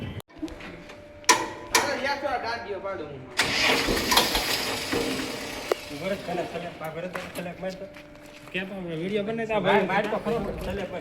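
A tractor engine cranks in repeated strained bursts that fail to catch, with people talking over and between the attempts.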